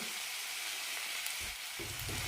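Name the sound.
tomatoes, green chili and mint sautéing with onion in a pan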